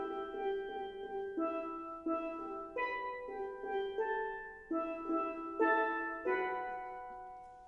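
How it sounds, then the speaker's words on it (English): Double tenor steel pans from a school steel drum band playing a melodic passage of ringing, bell-like struck notes with sustained shimmering overtones, moderately loud and alone with no talking. "So the double tenors sound like this."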